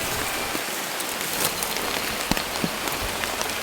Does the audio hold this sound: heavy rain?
yes